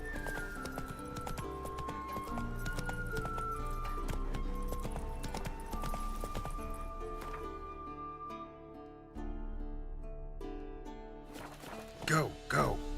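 Roach the horse gallops in The Witcher 3: Wild Hunt, steady clip-clop hoofbeats running under a full orchestral score, with a brief whinny or voice-like burst near the end.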